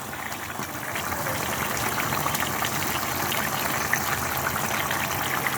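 Fried fish goes into a simmering fish broth, with a steady, even wash of bubbling and liquid hiss throughout and no talking.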